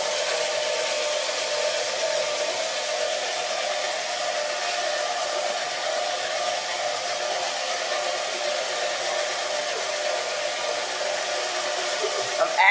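An egg washing machine runs in a constant, even broadband whir, loud and steady, with a faint knock near the end and no talking.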